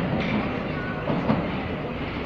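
A Paris Métro line 12 MF67 train rumbles past at close range with steady rolling noise and faint wheel clatter, continuous and fairly loud throughout.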